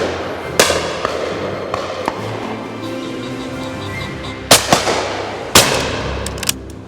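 William Powell Perdix shotgun fired outdoors, a few sharp loud reports with short echoing tails, the closest two shots landing about a second apart near the end.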